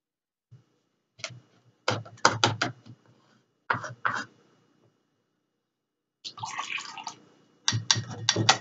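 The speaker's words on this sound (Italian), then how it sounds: "Ora spremiamo un po' di limone." Lemons are squeezed by hand for a lemon and grapefruit juice, giving short bursts of wet squelching and dripping that come close up in irregular clusters with quiet gaps between them.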